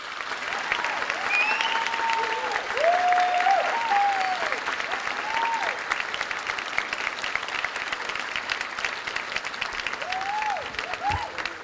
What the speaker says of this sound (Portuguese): O público se levanta e novamente aplaude de pé